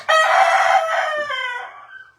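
One of two backyard roosters gives a single loud, close crow with a long drawn-out harmonic call that tapers off over about two seconds, heard alone without talk.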